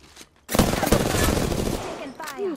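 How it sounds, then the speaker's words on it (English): Rapid gunfire rattles in the video game Apex Legends, a loud sustained burst of shots close up lasting about a second and a half, followed by lighter game sounds. "Opening fire on the enemy."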